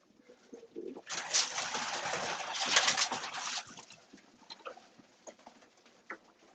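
Pigeons in a loft, soft cooing and rustling with a dense burst of fluttering wing noise in the middle, then scattered quieter coos and scuffles nearby, with no talking.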